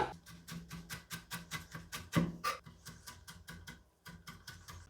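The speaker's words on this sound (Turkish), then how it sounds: "Ve maydanozu elimden geldiği kadar ince ince doğruyorum." A knife finely chops parsley for meatballs on a cutting board, making quick, evenly spaced taps that keep a brisk rhythm, close and clear, with no talking.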